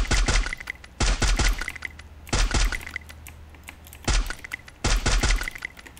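Bursts of gunfire crack out in clusters of rapid shots at a Free Fire shooting range, separated by short pauses, sharp and close with a game-like quality.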